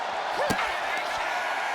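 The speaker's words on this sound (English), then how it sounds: "You heard the thud on the steps." At a televised pro wrestling match, a wrestler is slammed onto the steel ring steps: one sharp, heavy thud cuts through the steady roar of the arena crowd.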